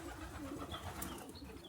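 Pigeons coo on a rooftop terrace, a soft low murmur running steadily under faint chirps and background noise, with no talk.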